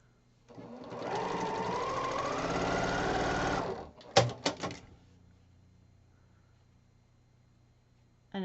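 Sewing machine stitching 9-patch quilt rows, a steady humming whir for about three seconds, then a few quick clacks and taps before near silence; close and fairly quiet, with no speech.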